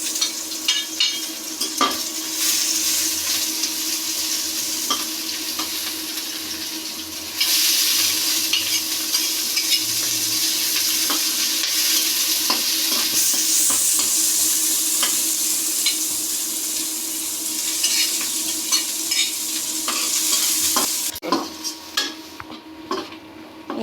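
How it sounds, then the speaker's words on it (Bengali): Leafy greens fry with plenty of chopped onion, garlic and green chilli, a loud continuous sizzle near at hand with steady scraping and clinking of a spatula stirring the pan, the hiss dropping sharply near the end. "এজন্য আমি শাক ভাজিতে বেশি করে পেঁয়াজ, রসুন কুচি, কাঁচামরিচ কুচি দিয়ে ভালো করে ভেজে নিয়ে তারপর শাকগুলো দিয়ে ভেজে নিচ্ছি।"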